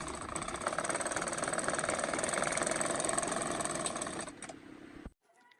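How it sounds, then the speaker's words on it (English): A sewing machine stitches fabric pieces together for a ruffle scrunchie, running in a fast, steady mechanical whir up close before slowing and stopping abruptly. "sew them together with your machine"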